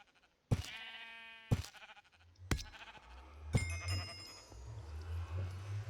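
Sheep in the game Minecraft bleat four times in separate, fairly loud calls, with a low hum and scattered game sounds beneath the later bleats.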